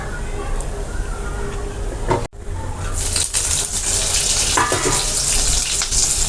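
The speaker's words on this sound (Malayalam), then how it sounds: "നമ്മൾ ജീരകം ഇട്ട്, ജീരകം ഒന്ന് പൊട്ടിച്ചെടുത്ത്" Cumin seeds spluttering in hot neutral oil such as peanut or sunflower for sabudana khichdi, a loud, dense crackling hiss close by that drops out briefly, then returns stronger.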